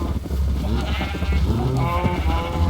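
Minecraft sheep and cows in a video game, several overlapping bleats and animal calls, loud and close, crowding over one another without pause.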